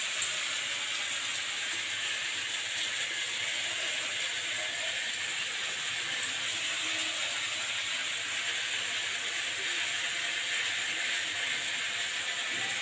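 Eggplant frying in hot oil gives a steady, even sizzle and hiss that holds at the same level for the whole span, with no talking heard.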